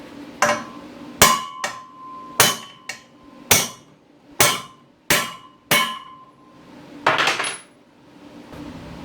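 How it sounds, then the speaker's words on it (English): Sharp metallic hammer strikes on a socket, driving a universal joint cap out of a driveshaft, ring out one at a time, about nine blows in an uneven rhythm, each clang decaying quickly, close and loud. "so I've always used a socket and a big old hammer"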